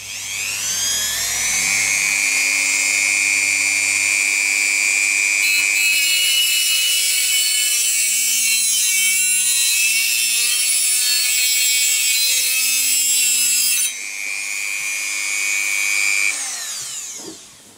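Small metal part for an HO-scale model railway level crossing being slit about 7 mm with a cutting disc on a rotary tool, a loud continuous high whine with pitch dips as the disc bites, nearby and alone.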